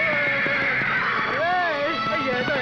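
A horse whinnies loudly in a Hindi-dubbed action movie scene while hooves clip-clop and someone speaks over it, the neigh rising and falling near the middle.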